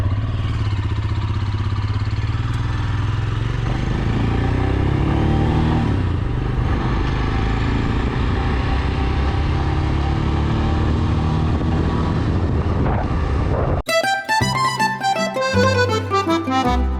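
A Royal Enfield Scram 411 motorcycle riding along an empty French road, its engine a steady loud hum with gear changes and slight rises in revs, then a sudden cut to music near the end.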